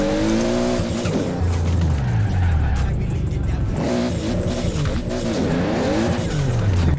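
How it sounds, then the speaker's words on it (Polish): Drag racing car engines in Forza Horizon 4 rev and accelerate continuously with rising and falling pitch sweeps, loud and close, with tire squeal mixed in. "Mega fajne auto dragowe."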